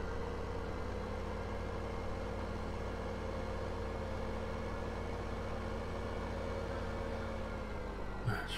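A farm tractor engine idles in a steady, even low rumble that holds throughout, close and continuous, with a small knock near the end.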